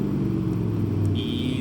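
Mercedes AMG GTR accelerating on a track at SpeedVegas, with a deep, steady engine roar heard close from inside the car and a brief higher whine near the end.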